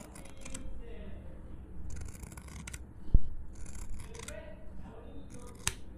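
Scissors trimming thick fabric for a sewn bridal face mask with filter pocket, several crisp repeated snipping cuts close up, with a few sharp clicks among them.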